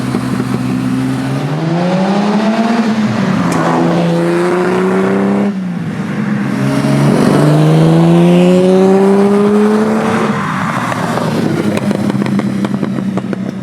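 A Lamborghini Miura sports car engine revs hard, pitch climbing and falling through several loud, sustained pulls with a gritty, musical growl, close and continuous.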